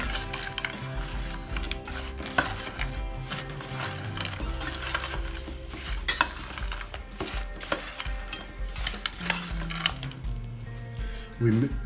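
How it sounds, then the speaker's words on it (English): Sliced apples are mixed with cinnamon powder in a bowl, giving continuous close clatter and scraping of a utensil against the bowl with frequent clinks, over faint background music. "A little bit of cinnamon powder. We mix them well."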